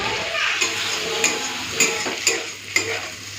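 Potato and eggplant hit a hot pan of frying prawns and onion, giving a steady close sizzle with scraping stirs and a few sharp utensil clinks against the pan.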